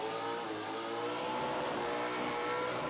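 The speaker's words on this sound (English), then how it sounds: "Just takes the top of the limiter there for the moment, the top of the rev limiter." A burnout car's engine held against the rev limiter, a loud, steady, buzzing high-rev roar that continues without a break, heard close.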